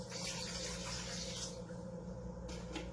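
Water pours steadily into a bowl for a sourdough starter, a quiet continuous splashing stream heard close up for a few seconds, with no talking.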